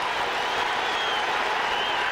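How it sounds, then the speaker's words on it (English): A large football stadium crowd at a 1986 Cowboys vs. Giants game roars in a steady, dense wash of noise with scattered applause, a broadband sound that fills the space under a broadcast announcer's talk. "Crowd already loud."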